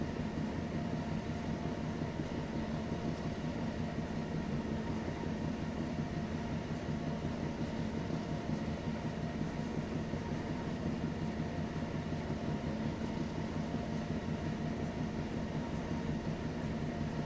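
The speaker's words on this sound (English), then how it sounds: "I like the fact that Scotsman's just there, just chuffing along." The Flying Scotsman steam locomotive in the Train Sim World 4 video game runs on the Birmingham Cross City line: a steady, continuous rumble of the moving train with faint, evenly repeating ticks running throughout.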